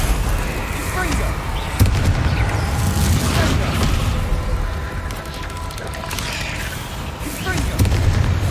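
Confringo blasting spells explode over and over in the wizarding video game Hogwarts Legacy, loud booming bursts recurring amid a dense, continuous mix of game effects and music.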